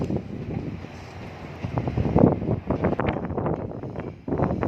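Gusty wind in Phnom Penh, Cambodia buffets the microphone in rough, uneven blasts, rumbling loudly and close with no one speaking.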